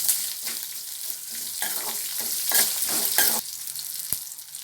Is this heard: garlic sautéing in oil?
yes